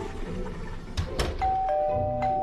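A doorbell sounds in a household scene as a steady electronic tone held over the last second, with soft knocks and background room noise before it.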